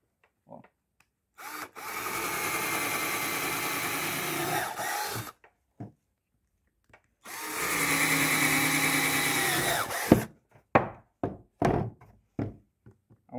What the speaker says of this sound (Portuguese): Agora eu vou usar uma broquinha de ferro, de madeira, furar aqui